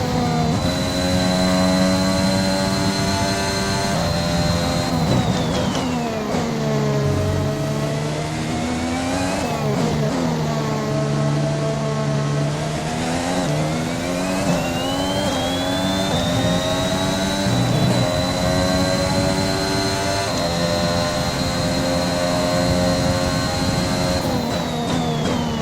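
A Formula 1 car on its final lap in the F1 2021 racing game, its high-pitched engine screaming loudly and continuously, rising and falling through gear shifts and braking with no voices over it.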